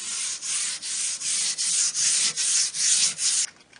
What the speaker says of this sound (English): I give the cabinet back a buffing with steel wool